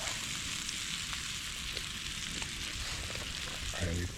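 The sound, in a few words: Scottish ribeye steak sizzling on a gas stove outdoors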